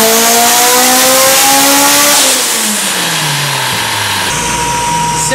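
Car engine on a dyno running a pull on pump gas, roaring loud and close as it climbs through the revs, then dropping away with falling pitch as the throttle closes, ending in a lower idle-like hum.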